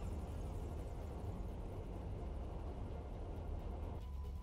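Helicopter in GTA Online, a steady, low rotor and engine drone heard continuously at moderate distance, without talk.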